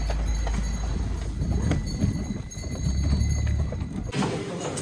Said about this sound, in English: sleigh ride with a horse and an authentic driver